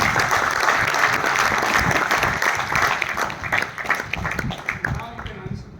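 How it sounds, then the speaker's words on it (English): An audience at a medical lecture on stroke management breaks into sustained, dense applause that stays loud for several seconds before thinning out toward the end. "I think it requires a big applause."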